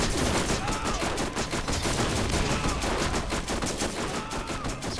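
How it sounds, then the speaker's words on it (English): Enemy in the Borderlands video game firing acid rockets, a dense, sustained barrage of loud bursts and rumbling blasts continuing steadily throughout. "Shooting acid rockets."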